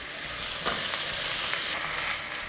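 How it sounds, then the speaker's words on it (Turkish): Frozen spinach hitting a hot pan of sizzling onions and red peppers, a loud steady hiss with a few sharper crackles, close and without talk. "Ve bir su bardağı dondurulmuş ıspanağı ekliyorum."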